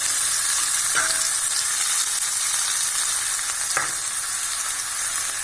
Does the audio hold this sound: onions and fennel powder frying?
yes